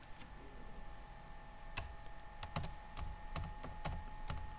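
Light, sparse keystrokes on a computer keyboard as a short phrase is typed, soft close clicks in small bursts over a faint steady hum, no talking.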